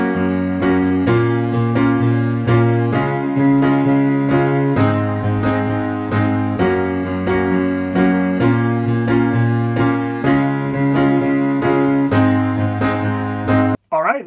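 Piano plays a song's bridge rhythm pattern, a steady chord pattern with a moving bass line, repeating evenly for the whole stretch, ending with a brief thump.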